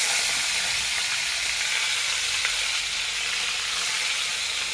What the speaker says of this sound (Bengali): তেলটা আমার গরম হয়ে গেছে, এবার আমি মাছগুলো একটা একটা করে দেবো।